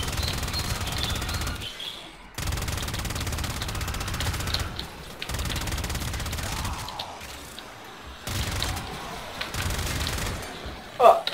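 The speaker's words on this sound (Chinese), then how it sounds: "火神机枪搬出来" Gatling gun fire in the video game Warframe: dense, rapid automatic bursts that run for a few seconds each, separated by brief pauses, loud and close, with faint game effects in the background.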